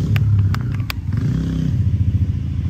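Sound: enduro motorcycle throttle revving

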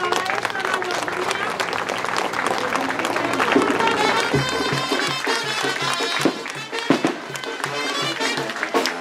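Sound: applause at a flag ceremony

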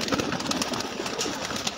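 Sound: golden pigeon

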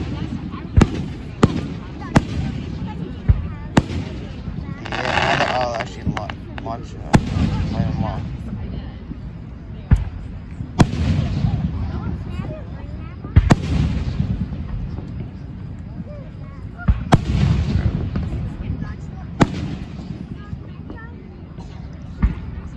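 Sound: fireworks exploding on 4th of July

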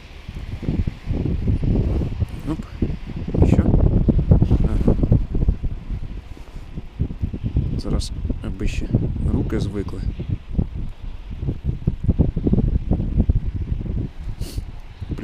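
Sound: wind blowing

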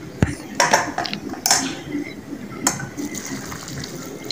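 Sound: water poured into pot of mangoes for mango chutney

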